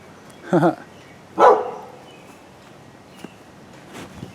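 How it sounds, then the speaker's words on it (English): A neighbor's dog in a backyard barks twice, two short gruff barks close together, with faint rustling afterward. "Here's my neighbor's dog."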